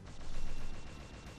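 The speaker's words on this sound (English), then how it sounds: "And I wish these things would stop firing at me for once" Enemy projectile fire in the Brave Fencer Musashi video game, a quiet continuous rattle of rapid shots and mechanical thumps pulsing steadily throughout without pause.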